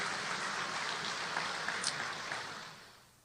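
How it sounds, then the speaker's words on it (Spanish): Congregation applauding in a church service, a steady wash of clapping throughout that slowly fades toward the end. "Démosle un fuerte aplauso al Señor"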